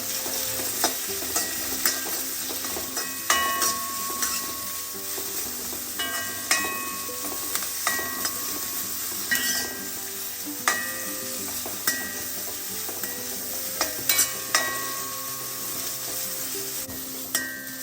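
Green chilies and curry leaves sauté in a pan for a black gram thoran, with steady frying sizzle broken by frequent stirring scrapes and clinks, close and continuous with no talking.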